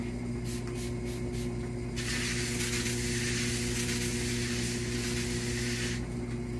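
A wet pad with conditioner rubs up and down over a bowling ball being given a 1500 grit polished finish, a soft hissing swish in repeated strokes over a steady background hum, near and without talk.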